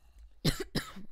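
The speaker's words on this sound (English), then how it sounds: "See, I'm coughing." Two harsh coughs from a person with a congested, sore throat in the early morning, close to the microphone in a quiet room, separated by a short pause.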